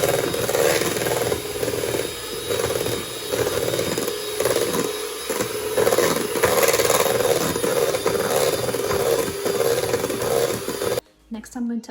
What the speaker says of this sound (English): I'm going to whisk half a tub of double cream.